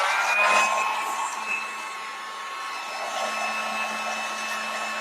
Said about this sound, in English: I'm going to hit it with a cool heat gun.